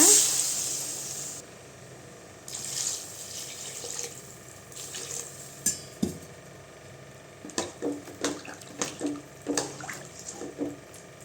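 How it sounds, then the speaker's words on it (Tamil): Water is poured into a pan of drumstick curry (murungaikai kulambu) with masala and chilli powder, opening with a brief rushing pour, then a settling sizzle and a run of bubbling pops and stirring clicks, nearby and without talk. "தண்ணி ஊற்றிக்கலாங்க."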